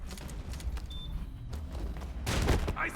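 A frag grenade goes off in the online shooter Ballistic Overkill, a low booming blast near the end amid steady gunfire and game noise, with no talk.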